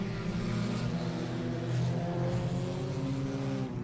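Race cars roaring away together at a green flag start at I-37 Speedway, a dense, loud, continuous engine rumble from the pack that swells slightly partway through, with no voices.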